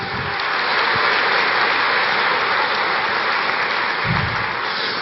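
A church congregation bursts into dense, steady applause during a sermon, a continuous wash of clapping that holds at even loudness with no voices over it.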